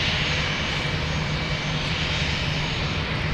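An airliner arriving at Minneapolis–Saint Paul airport produces a steady, broad engine roar that fills the whole stretch without a break, loud and fairly close, with no talking over it.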